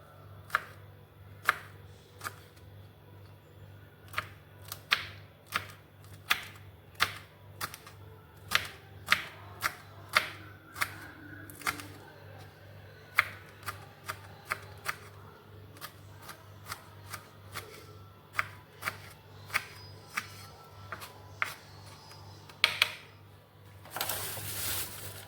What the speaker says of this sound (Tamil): பச்சை மிளகாய் கட் பண்ணிடுவோம்.